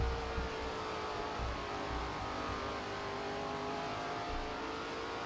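SRX race cars roar around the Knoxville dirt track in a steady engine drone that stays loud and sustained throughout, a rough broadband rumble with no voices.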